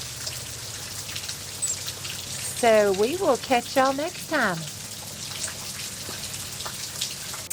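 Steady rain falls on a stormy morning, a soft continuous hiss beneath a person speaking and a brief run of high, chattering calls.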